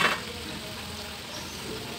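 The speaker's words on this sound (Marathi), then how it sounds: "आणि त्याच्यानंतर दुसरी ही बॅच मी या ठिकाणी तळून घेत आहे।" A second batch of baati dough balls frying in hot oil on a medium flame, giving a steady, soft, close sizzle and bubbling that runs throughout with no voices.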